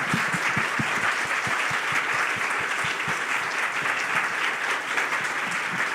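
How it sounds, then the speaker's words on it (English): Audience at a mayoral candidate forum on arts and culture applauds steadily for six seconds, a dense, even wash of many hands clapping with no voices over it. "let's give a huge round of applause for them one more time"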